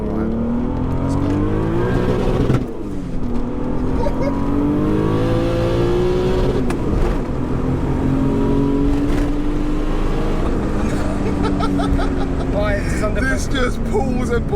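An 800bhp Sidewinder turbo Mk3 VW Golf accelerating hard in second gear, engine note climbing steadily in pitch with a brief dip around a gear or throttle change, loud and close from inside the cabin, with people talking over it.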